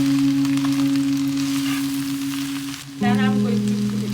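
Celery and spring onion for chicken chow mein sizzle steadily as they are stir-fried, a close, constant frying hiss under a low steady hum that shifts partway through.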